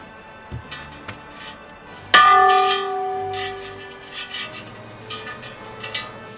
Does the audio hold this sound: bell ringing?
yes